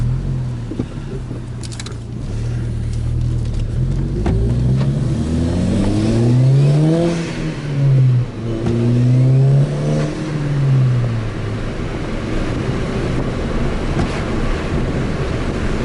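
A tuned turbocharged 2.0T FSI engine with a Frankenturbo F23T revs up through rising pitch, drops, then climbs again, loud and close with wind rushing over the microphone throughout.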